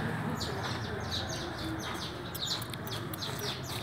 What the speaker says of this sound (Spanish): No son pericos. Son pájaros. Son pajaritos.